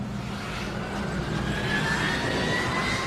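A jet airliner taxiing along an airport runway gives a steady, loud engine whine and rumble, with a tone that slowly rises as it passes nearby, with no voices.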